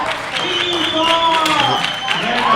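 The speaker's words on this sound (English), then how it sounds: "And the crowd goes wild." Crowd at a powerlifting world championship, a dense wash of applause and cheering that runs steadily throughout, with a commentator talking loudly over it.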